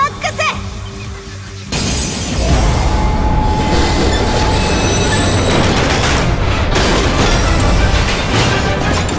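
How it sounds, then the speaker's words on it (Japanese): Superdreadnought Rail Cannon Gustav Max rolls in within Yu-Gi-Oh Duel Links, a loud rumbling train-like effect with crashing booms that swells after a brief quieter opening and holds steady to the end. "現れろ、超ド級砲塔列車グスタフマックス。"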